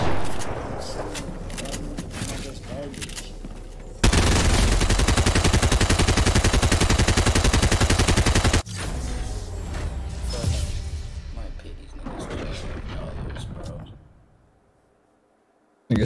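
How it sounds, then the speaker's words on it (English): Rapid automatic gunfire in the video game Fortnite, a dense sustained burst of shots lasting several seconds amid other in-game shots and effects that fade out at the end. "Nigga shooting dead body for no reason."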